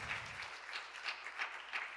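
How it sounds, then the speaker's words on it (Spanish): A church congregation applauds steadily, a dense wash of many hands clapping at once, moderately loud with a faint voice or two underneath. "Un aplauso para Cristo"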